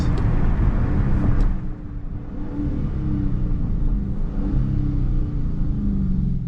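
A Dodge Charger Scat Pack 392 engine rumbles loudly and steadily with a deep low growl, briefly dipping before settling into a sustained idle-like rev, heard from inside the car.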